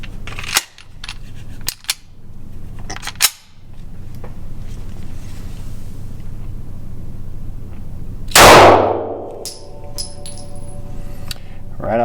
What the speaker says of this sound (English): I'm going to shoot the SCCY pistol.